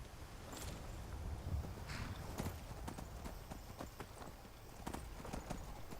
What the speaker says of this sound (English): you can use this horse to ride all the way up to Solitude very quickly